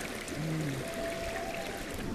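Water from a stream runs over stones in a steady, continuous rush, close and fairly loud, with no voices over it.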